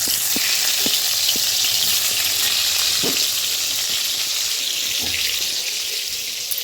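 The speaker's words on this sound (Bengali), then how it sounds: "পনির ভাজলে এরকমই চুপচুপ করে নিতে চলে আসে।" Paneer fries in hot oil in a pan, a loud, continuous close-up sizzle with scattered pops and crackles throughout, no voices.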